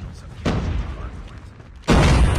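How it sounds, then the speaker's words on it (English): A loud flashbang grenade in COD Mobile erupts as a sudden broadband blast near the end, preceded by a sharper crack and low rumble of gunplay, with a player's voice talking over it. "Flashbang."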